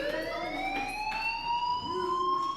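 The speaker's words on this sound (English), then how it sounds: "do you hear that fire alarm?" A fire alarm in the video game Life is Strange wails in a steady rising electronic tone, moderately quiet and continuous, with faint background noise.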